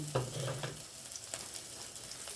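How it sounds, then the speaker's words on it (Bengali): Onions and chili flakes fry in a pan with a steady, close sizzle, with faint scraping stirs in the mix. "এবারে আমি এটাকে একটু ভাজবো পেঁয়াজটা বেশ লাল লাল হয়ে গেছে"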